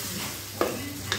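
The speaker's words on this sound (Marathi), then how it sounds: "मस्त खाट उठला आहे मिरची का छान तडका मस्त वाला कलर सुद्धा बदलला" Chilli tadka sizzles in a pan while a Marathi home cook makes chutney for soft dosa. A steady frying hiss carries two brief sharp spatter bursts and faint stirring.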